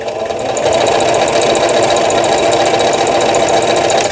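A domestic sewing machine runs steadily at close range with a dense, even mechanical whir, a brief start at the beginning and the reverse button pressed; no one talks.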